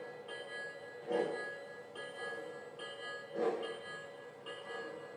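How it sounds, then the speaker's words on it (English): Bell of a Lionel Southern Pacific 4-6-2 Pacific model steam locomotive ringing in a steady, evenly spaced clang, repeated about every 1.2 seconds, fairly faint over a soft background hum. "Well, I can hear the bell of this engine."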